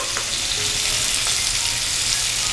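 Chopped raw tomatoes and chillies stirred together in a hot oiled pan for a Gujarati sambharo, with a steady close sizzle and faint scraping of the spoon throughout, no voices.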